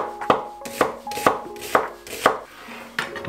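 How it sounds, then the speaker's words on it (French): Mushrooms being sliced very thinly with a knife on a board, seven sharp, evenly spaced chopping taps, close and crisp, with no talking. "Champignons, bah là on va le couper simplement"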